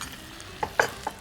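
Spices including coriander powder being stirred and sautéed in a pan, with a few sharp scraping clacks of a spoon against the metal over a soft, low sizzle.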